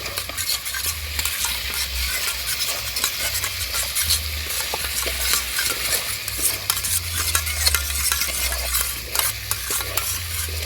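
Ketchup and sauces are stirred together in a hot pan while cooking fried rice and chilli chicken, giving a steady scraping stir under a continuous soft sizzle, with occasional utensil clinks and a low background hum.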